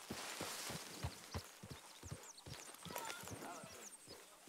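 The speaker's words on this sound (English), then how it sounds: "Let's hitch up our horse here." Horse hooves clip-clop at a walking pace in Red Dead Redemption 2, the footfalls close and even, under ambient game sounds and someone talking.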